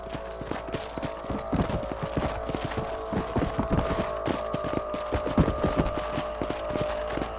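A ridden horse in the video game Red Dead Redemption trots along with steady, rhythmic clip-clopping hooves, close and prominent over a low background hum.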